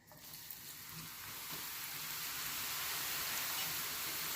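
Very hot oil frying ingredients for a fattoush salad gives a steady, close hiss of sizzling that swells slightly and then holds as a continuous crackle with no voices.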